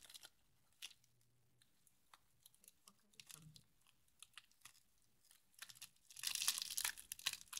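Cardboard packaging is carefully cut open at close range, with scattered small scrapes, ticks and crinkles building to a louder burst of rustling near the end.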